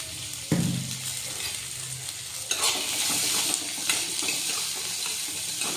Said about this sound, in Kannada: ಈರುಳ್ಳಿ ಸ್ವಲ್ಪ ಕೆಂಪಾಗೋವರೆಗೂ ಒಂಚೂರು ಫ್ರೈ ಮಾಡ್ಕೊಳ್ರಿ